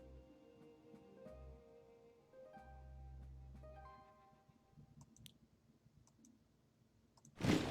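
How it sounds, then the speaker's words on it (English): Computer mouse clicks during a strategy war game, a few faint sharp clicks scattered in the latter half over quiet low game tones, ending in a brief louder burst. "I was just clicking around to check their values."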